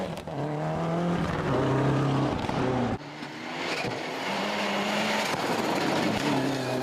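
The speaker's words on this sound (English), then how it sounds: "hoping his engine misfire had finally gone" A rally car engine with a misfire roars loudly and unevenly at Rally Otago, its note stuttering and cutting out briefly midway before picking up again with a rough, uneven tone.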